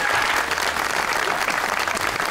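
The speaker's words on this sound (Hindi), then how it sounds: "तालियां" A studio audience claps loudly and continuously on an Eid special television show after a rapid fire round, a dense, even burst of applause close by with no break.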